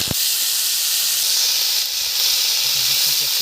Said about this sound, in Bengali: প্রথমে আমি ব্রোকলিটা একটু ভেজে নেব।